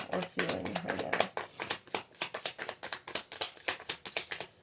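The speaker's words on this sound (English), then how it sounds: "I'm shuffling this deck" A deck of tarot cards is shuffled by hand in a rapid, steady rhythm of crisp riffling bursts, close and clear, while a person talks over it throughout.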